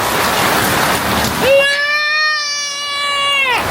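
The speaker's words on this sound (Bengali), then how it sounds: "এই দেখেন কি পরিমাণে বৃষ্টি হচ্ছে, অনবরত বৃষ্টি হচ্ছেই" Heavy, continuous rain pours down outside with a steady, dense hiss throughout, and partway through a high, sustained wailing cry rises over the downpour.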